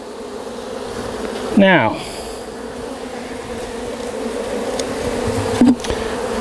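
Honeybees buzzing steadily close by as brood comb is pulled during a hive removal, with a louder swooping pass near the start and a brief spoken word over the hum.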